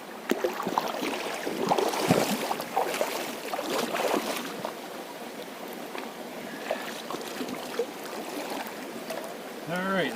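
A MineLab Pro Gold pan swirls and sloshes bedrock material in water while prospecting for gold in Vermont. Irregular splashes and gravelly washing sit close by, and a voice talks at moments.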